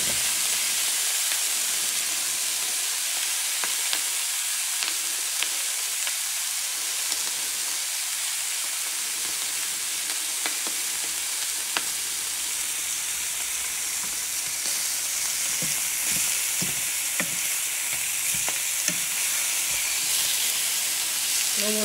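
Homemade ham frying in oil in a skillet gives a steady, close hiss and sizzle with small crackles and pops throughout, occasional scraping as it is moved around the pan.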